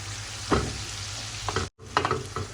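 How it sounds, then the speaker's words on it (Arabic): Finely chopped onion sizzling and frying in a pan, following garlic, with steady close crackle broken by a few stirring scrapes and one brief silent gap. "ننزل ببصله واحده مفرومه ناعم بالشكل ده، نديلها تشويحه"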